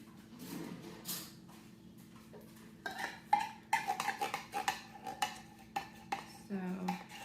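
Kitchen sounds while making flan de queso: a drawer or dish shifted, then a run of sharp metallic clinks and rattles as a spoon and cutlery knock against dishes, close and irregular, with no talking.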